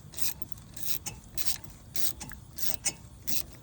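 An EZRED 4S04 micro ratchet is turned during a 2007 Suburban brake job, giving close, rapid bursts of fine clicking in an uneven back-and-forth rhythm, with quiet pauses between strokes.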